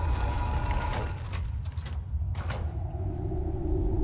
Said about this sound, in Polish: Drzwi się zamknęły.